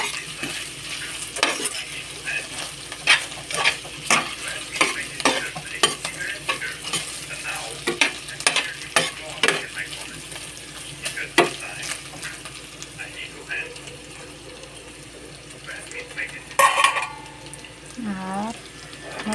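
Onion and garlic fry on moderate heat in a pan for a Filipino caldereta, with a soft sizzle under repeated scraping and stirring strokes, a few pan clanks, a brief trickle of water near the end, and a voice speaking over it.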